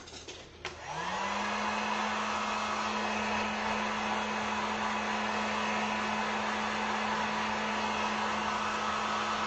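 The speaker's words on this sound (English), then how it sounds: "Let me grab the heat gun real quick here." A Harbor Freight heat gun drying acrylic paint on a wooden witch cauldron sign starts up after a brief click and then runs as a steady, loud, even blowing whir with a constant hum tone, alone with no talk.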